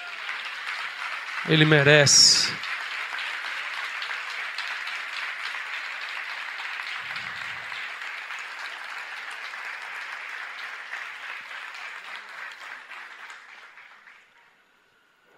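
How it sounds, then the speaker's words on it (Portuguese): A church congregation applauds steadily and evenly for about twelve seconds before fading out, with a short spoken phrase heard near the start. "Bora aplaudir ele, por favor."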